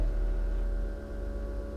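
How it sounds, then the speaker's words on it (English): A Walbro 255 fuel pump primes in the rear of an EK Civic, a steady low electric hum holding level for a couple of seconds, faint and continuous with no voices. "You hear the pump priming back there?"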